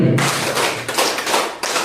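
A group claps the 'tepuk 5' pattern twice, producing dense, loud overlapping thuds and claps in bursts with brief gaps between them.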